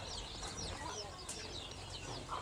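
Brooding chicks peck at grain scattered over paper, with a continuous wash of faint, high peeping chirps and some low background murmur throughout.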